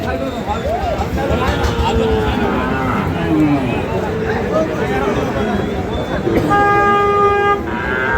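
Cattle at a Bangladeshi livestock market, including Sahiwal-breed bull calves, low near moos rising amid a crowded din of talk, with a car horn tooting steadily near the end.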